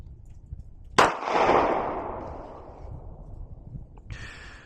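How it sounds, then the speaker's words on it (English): A single loud 9mm shot from a Glock 45 pistol fired at an outdoor range target, with a sharp crack followed by a long decaying echo and a faint metallic sound near the end. "let's go ahead and take a couple shots at that black target down there"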